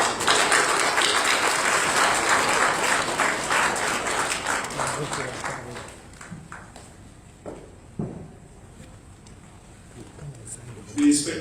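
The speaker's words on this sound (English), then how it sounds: "A round of applause." Audience applause at the ceremony confirming a police Inspector General, dense clapping that fills the first six seconds and then thins to scattered claps, with a voice speaking over it.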